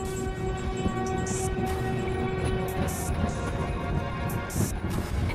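Train rolling into a railway station, with steady rumbling wheel noise, a sustained horn tone through the first half and repeated bright hissing bursts like brakes or air releases, loud and continuous throughout.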